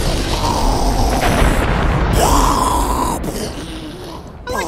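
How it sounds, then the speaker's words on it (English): A heavy, sustained blast roars from an explosion in the Syphon Filter: Omega Strain video game, set in Minsk. The broadband rumble stays loud for several seconds, with a rising tonal whine in the middle, before it cuts off abruptly. "Like the effort they put in on that explosion"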